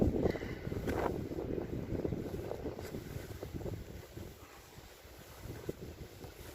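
Wind gusts across a small fishing boat out on the water, buffeting the microphone with a loud, rough roar that gradually eases toward the end.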